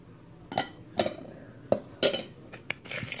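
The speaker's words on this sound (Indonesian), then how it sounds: "Kita aduk lagi sampai tercampur" Cornstarch being stirred into choux pastry batter in a bowl, giving a handful of separate clinks and scrapes of utensil against the bowl at irregular intervals, close and fairly quiet, with no talk.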